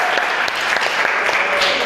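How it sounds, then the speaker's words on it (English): Classroom applause for a student group presentation at a university: dense, steady clapping from a room full of students, close and continuous throughout, with no speech over it. "let's give applause for group 1."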